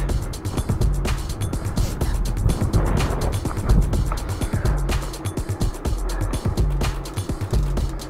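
Strong wind buffets and roars during an outdoor ride, a loud, gusty rush with fluttering low rumble that rises and falls throughout, no voices heard.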